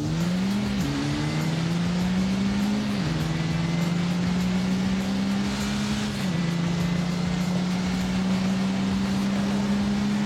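A 2-litre turbo car accelerates hard through several gears, its engine note rising steadily and dropping at each shift, heard from inside over constant road and wind noise.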